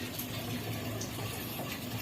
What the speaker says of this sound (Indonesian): jadi airnya mengalir terus